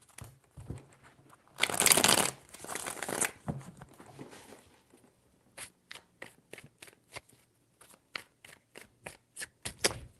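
Tarot cards being shuffled by hand, a dense riffling burst early on followed by a string of separate quiet card snaps and taps, close and alone with no talking.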